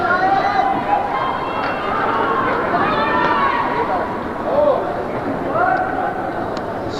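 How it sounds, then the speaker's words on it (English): Crowd noise at a high school ice hockey game between Beekmantown and Saranac at Lake City rink, a steady babble of many voices and shouts with a few louder cheers rising and falling throughout. "Good crowd here at Lake City."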